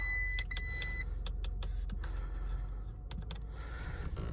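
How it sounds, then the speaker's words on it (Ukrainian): Audi Q7 from 2023 starting up, a steady low engine rumble throughout with repeated chimes and short clicks from inside the car layered over it. "Зараз запустимо разочок просто запустимо, щоб показати, що дійсно все працює"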